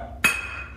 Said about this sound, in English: These guys found a really bouncy glass bottle.